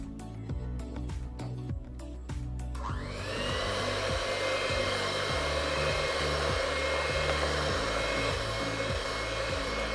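Electric beater whipping a three-ingredient chocolate ice cream mixture; a few soft clicks and clatter, then the motor starts and runs with a loud steady whir and rhythmic rattling of beaters in the bowl.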